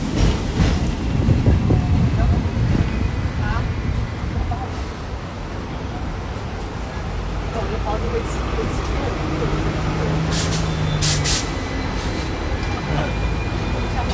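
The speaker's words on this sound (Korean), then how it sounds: "저는 지금 트램을 타고 이동 중입니다." Interior of a moving tram after rain: a continuous rumble and wind-like hiss of travel runs throughout, with brief squeaks and a short tonal whine, and a voice talks over it.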